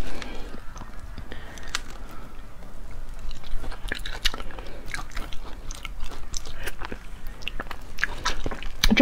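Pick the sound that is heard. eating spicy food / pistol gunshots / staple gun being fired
eating spicy food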